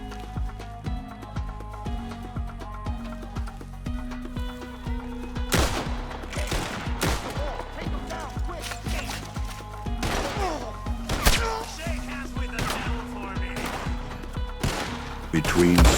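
Rapid gunfire from the Western video game Red Dead Online, with sharp shots in scattered bursts and volleys over a background music bed, some hoof-like thuds mixed in.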